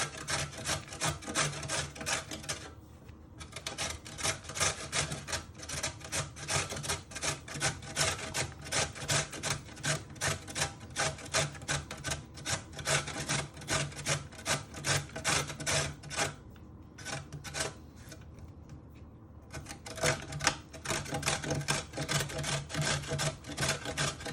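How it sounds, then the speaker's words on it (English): A peeled carrot is finely grated on a sharp kitchen grater, giving a rapid, even rasping scrape stroke after stroke, with brief pauses, close and clear with no talk. "you want to finely grate it with your grater"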